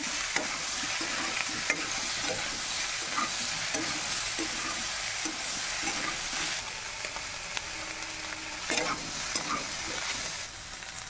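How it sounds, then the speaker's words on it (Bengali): Soybean chunks and potato fry in white oil in a kadai, with a steady close sizzle and repeated scraping strokes of a spatula stirring the pan. "আমি সয়াবিন ও আলুটাকে ভেজে নেবো।"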